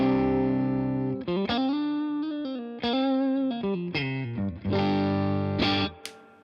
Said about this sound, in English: I'm plugged into my Victory V40 Deluxe combo,